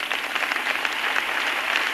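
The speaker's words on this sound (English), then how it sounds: "If you're saved, clap your hands." A church congregation claps their hands during a sermon, a steady, dense wash of many palms that holds at an even level for the whole stretch, with no voices rising above it.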